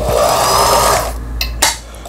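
A Riccar 3800 household sewing machine, just repaired, runs steadily with a close, even motor whir and needle hum, then slows and stops, leaving a few light mechanical clicks.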